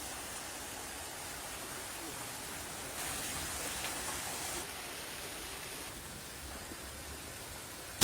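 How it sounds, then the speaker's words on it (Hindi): Rain falling with wind blowing during a thunderstorm, a steady broadband wash that holds even and loud throughout, swelling briefly in the middle before settling again. "हवा चल रहा है और बारिश भी है।"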